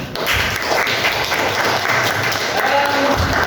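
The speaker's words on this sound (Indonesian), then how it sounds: "Kita berikan aplaus semuanya." A roomful of people in a school classroom breaks into steady, dense applause. The clapping is close, loud and continuous throughout, with no voices rising above it.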